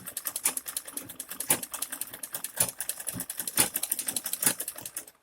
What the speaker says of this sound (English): I'm just going to sew directly to this end.